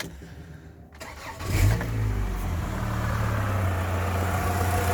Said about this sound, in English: Now we're going to start the engine, because obviously just let it idle.